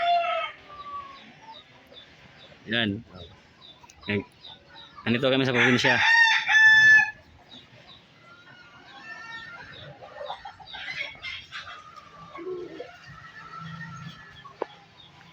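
Labuyo wild chickens in a rural province give scattered clucks, and a rooster crows loudly midway, with someone talking at times between calls.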